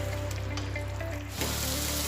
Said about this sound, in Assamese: আৰু এই পানীখিনি শুকাই যোৱালৈকে মছলাখিনি আৰু অকণমান সময় ভালদৰে ভাজি ল'ম।